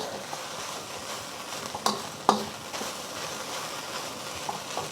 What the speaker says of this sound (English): You can hear the sizzling of the rice cooking on the bottom.